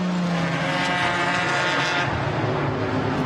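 A GT4 race car is pushed hard through a flying qualifying lap at the Nürburgring, its engine a loud, continuous, near roar that holds full throttle and shifts in pitch as it climbs.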